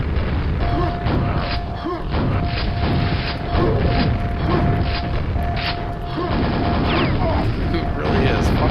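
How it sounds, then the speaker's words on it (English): Grenades explode in Quake amid a loud, dense stream of game noise, with repeated booms and mechanical clatter over a steady tone, while players talk over the action. "are you really still coming for me with all these grenades going off?"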